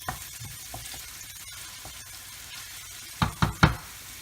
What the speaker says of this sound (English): we're going to add the onions to the oil